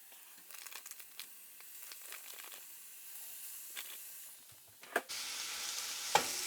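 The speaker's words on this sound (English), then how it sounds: "Once you get the meat in there, kind of like separate it with a wooden spoon" Meat fries in a pan while a wooden spoon stirs and breaks it apart, soft sizzling under scraping and clacking, rising to a louder burst of hissing steam near the end, close with no talking.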